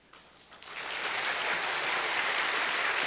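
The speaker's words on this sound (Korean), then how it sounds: "박수로 이렇게 화답해 주셔서 너무 감사드립니다" A church congregation breaks into applause, building within the first second into a steady, even wash of clapping that holds to the end.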